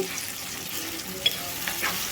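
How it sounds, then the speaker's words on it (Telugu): Medium-size tomato pieces softening in a hot pan for rava upma, giving a continuous close sizzle with a couple of brief utensil clicks and no voices. "టమోటో ముక్క సాఫ్ట్గా ఇందాక వేగాలండి"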